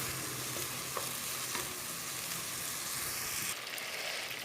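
Onions sauté in a pot with a ladle of hot water, giving a steady, close sizzle and hiss with faint stirring knocks throughout, without any talking.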